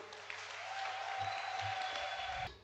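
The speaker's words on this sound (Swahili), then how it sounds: "pigia Yesu makofi." A church congregation claps during a revival sermon, a steady mass of hands sustained for a couple of seconds, with a held tone ringing faintly underneath before it cuts off.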